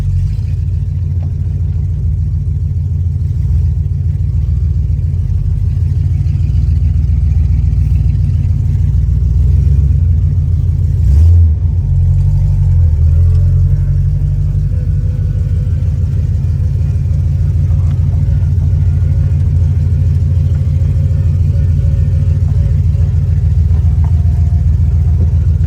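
1969 Dodge Dart engine running while driving after sitting 22 years, fresh clutch fitted, a loud steady low rumble heard from inside the car throughout, with no talk.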